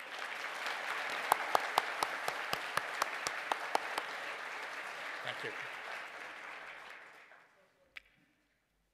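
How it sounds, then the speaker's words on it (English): Loud, steady applause fills a graduation ceremony hall, with sharp individual claps standing out before it fades away; a brief spoken thanks is heard near the end. "just for a well-earned round of applause."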